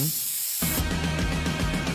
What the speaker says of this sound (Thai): สเปรย์อเนกประสงค์ฟิกซ์วันกระป๋องสีเหลือง